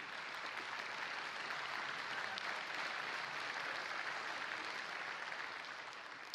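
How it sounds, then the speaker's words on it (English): Sustained audience applause, a thick, even patter of many hands clapping that fades slightly toward the end. "you applauded a little too soon"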